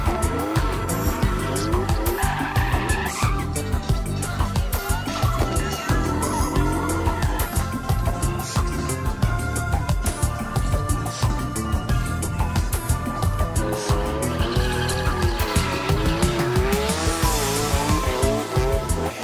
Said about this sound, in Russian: Прогрев шин перед стартом – обязательная процедура